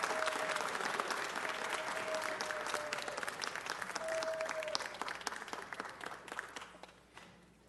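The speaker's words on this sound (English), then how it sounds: "Give Terrence a round of applause." Sustained audience applause fills a city council meeting for two-time Grammy winner Terrence Martin, many hands clapping steadily before thinning out and fading near the end.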